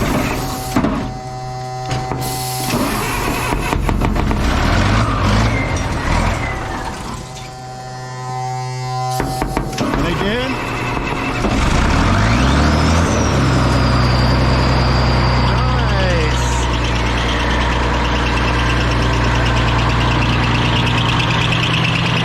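An M35A2 military cargo truck engine cranks with a buzzing, rattling starter for several seconds, then catches and settles into a steady, loud diesel idle, heard up close with no talking.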